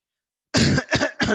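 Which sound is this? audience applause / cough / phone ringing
cough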